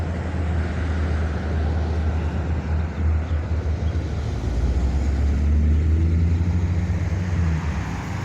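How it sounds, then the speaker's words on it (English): A Pontiac G8 cruising past in street traffic at a spring rod run, a steady low engine and road rumble that swells slightly midway, loud and close throughout. "Here comes another Pontiac G8."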